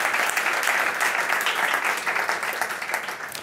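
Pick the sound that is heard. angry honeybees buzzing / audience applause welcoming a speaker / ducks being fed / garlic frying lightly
audience applause welcoming a speaker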